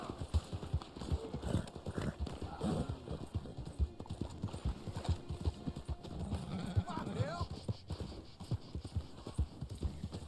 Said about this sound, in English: I'm just using this horse right now.